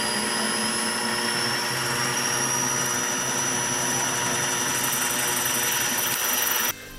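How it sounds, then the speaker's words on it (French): Steady, loud whine of a large model helicopter's engine and rotor, a high tone slowly rising in pitch, cutting off abruptly near the end. "Quand il décolle, ça se rapproche plus d'un vrai hélicoptère."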